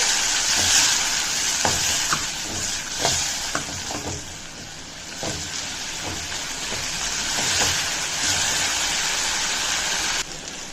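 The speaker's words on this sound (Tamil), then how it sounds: "பாருங்கள், இப்போ தக்காளி வெங்காயம் எல்லாம் நல்லா வதங்கிருச்சு" Tomatoes and onions sauté in a pan for a drumstick-leaf dal, giving a steady close sizzle broken by regular clinks and scrapes of a stirring spoon, with no talking.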